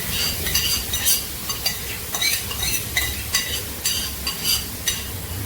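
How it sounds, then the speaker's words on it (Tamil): Soya chunks fry steadily in a pan, with a continuous sizzle and occasional scrapes and clinks of a stirring utensil against the metal, heard close up with no talking. "அப்படியே போட்டு நான் பொரிச்சுடுறேன்."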